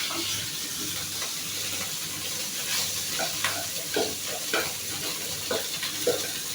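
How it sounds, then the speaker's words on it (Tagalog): Tuyo, Filipino dried fish, fries in a pan with a constant soft sizzle and occasional scraping stirs, heard close and fairly quiet. "Piniprito niya na ngayon nakuha niyang tuyo."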